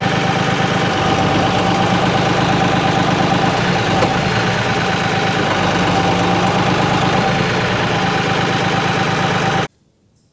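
An Artillian Iron Fist grapple with a 48-inch mouth opening grips and lifts dissimilar logs, and the carrier machine's engine drones loudly and steadily throughout before cutting off abruptly near the end.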